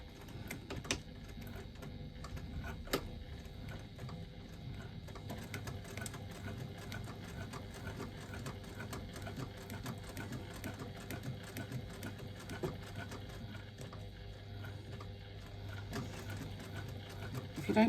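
Sewing machine stitching a wristlet with a steady low mechanical hum and faint rapid clatter running throughout at moderate volume, with a few sharper clicks along the way.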